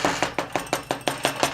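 A hammer pounds wet leather flat in a steady rhythm, about eight dull, close blows with no speech.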